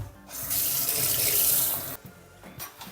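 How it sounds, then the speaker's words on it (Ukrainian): Warm water gushes steadily from a kitchen tap into a bowl of dumpling dough mixture for a couple of seconds, then cuts off, leaving faint splashes and drips. "До кінця наливаємо теплою водичкою з-под крана."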